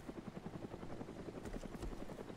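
Steady rotor chopping from a helicopter in DayZ, a fast even thump over a low whine, sustained and fairly close with no voices.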